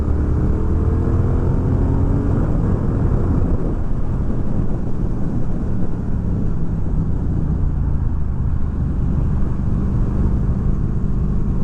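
A Triumph Thruxton R motorcycle accelerating hard gives a loud, continuous engine roar that climbs in pitch, mixed with heavy wind rush throughout.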